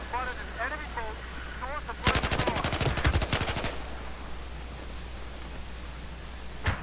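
Rapid burst of LMG machine gun fire in the video game Battlefield 4 on PC, lasting about a second and a half, loud against a steady background of ambient battle noise and faint chirping, with a single distant shot near the end.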